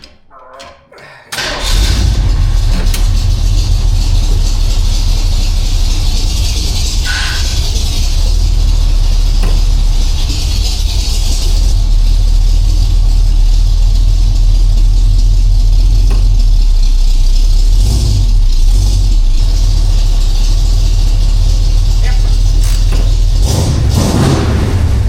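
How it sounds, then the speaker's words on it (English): The engine of an old, rusty Jeep CJ-7 starts and then runs steadily and loudly as the vehicle is moved, a close, continuous low rumble that holds throughout with a few faint knocks. "I want to get the Jeep moved over to where we're actually going to be welding and doing all this work"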